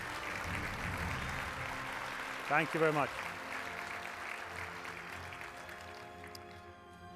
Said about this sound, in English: if you could give all these companies a round of applause